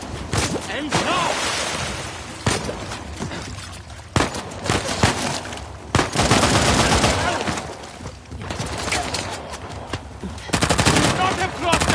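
Rapid bursts of automatic gunfire in a PS4 video game battle, loud and close, with repeated volleys and sharp cracks, mixed with shouted voices and game dialogue between shots.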